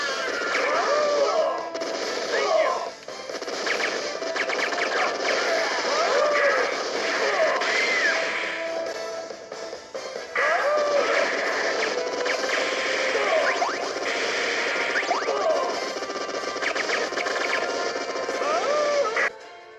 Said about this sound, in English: This is Metal Slug XXX.